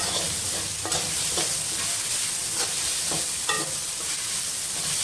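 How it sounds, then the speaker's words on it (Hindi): Chopped capsicum and green chillies are stirred into pasta in a hot pan, a steady loud sizzle and frying hiss running throughout with repeated scraping strokes of the spoon. "अब मैं इसमें डालूँगी शिमला मिर्च कटी हुई और इसके साथ ही मैं शामिल करूँगी ये 2 अदद कटी हुई हरी मिर्चें।"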